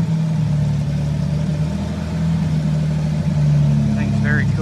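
An old bus engine runs steadily at a low, even pitch, close and continuous, with a faint short chirp near the end and no talk over it.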